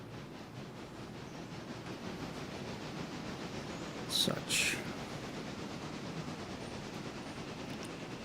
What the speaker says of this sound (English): you might hear the train chugging in my background